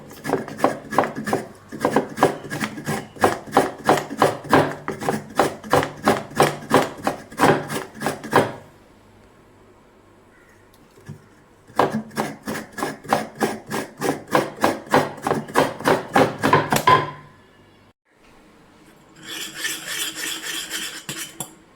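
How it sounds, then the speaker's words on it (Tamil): Fresh coconut is scraped on a grater for urad dal payasam, making a fast, regular series of close rasping strokes in two long bursts with a short pause between them, then a softer scraping tail. "தேவையான கொஞ்சமாக தேங்காய் திருவி"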